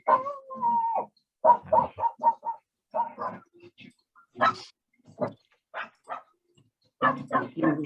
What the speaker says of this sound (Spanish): Ese perrito.